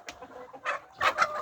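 Andijan black chickens cluck nearby in short, quiet bursts, three or four brief calls spread across a moment with no talking.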